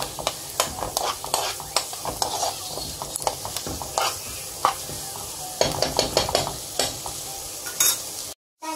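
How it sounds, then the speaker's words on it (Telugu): Onions fry in a pan until brown, with a steady sizzle under repeated close scraping strokes of a spoon stirring them, then a brief cutoff near the end. "ఇది బాగా బ్రౌన్గా ఫ్రై అవ్వాలండి. ఆనియన్స్ అంతా బ్రౌన్ కలర్లోకి రావాలి."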